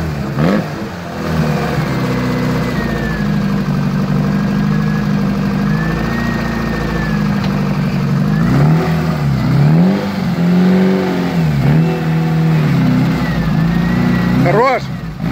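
An off-road car engine with a struggling motor and carburetor, fresh from a suspension raise, idles loudly nearby and climbs into repeated revs with rising and falling pitch, steady and close for the whole stretch.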